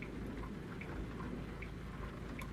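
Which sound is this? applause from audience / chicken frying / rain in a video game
rain in a video game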